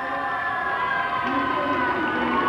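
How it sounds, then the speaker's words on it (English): A high-school basketball crowd in a gym applauds and cheers for a substitute coming into the game, a steady sustained roar of clapping and voices heard from a distance. "And the crowd gives him a big hand"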